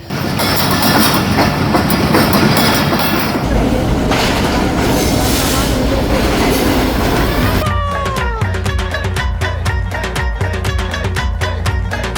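Train ZCU 26405 at Faisalabad railway station during the morning rush, loud and close, with rumbling and clattering wheels, a brief squeal, and then a fast run of rhythmic clickety-clack over the rail joints.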